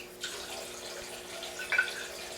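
Water runs from a tap while a waterstone is cleaned, a soft steady stream with a couple of faint splashes, no voices.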